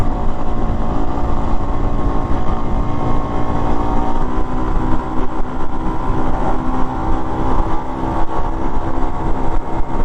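Honda CT110 motorcycle ridden flat out at full throttle on an open road trip, a loud, steady, droning engine roar mixed with heavy wind rush, continuous and close throughout with no speech.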